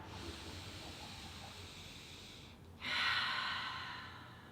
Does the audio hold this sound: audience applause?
no